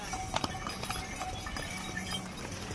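Horses walk along the Gaurikund to Kedarnath mountain trail, their hooves making faint, scattered clip-clop knocks on the path against a soft outdoor background.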